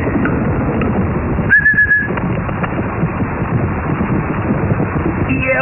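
A parrot gives a short, bright whistled phrase of a few quick rising notes, standing out briefly over a continuous rough, noisy background without speech.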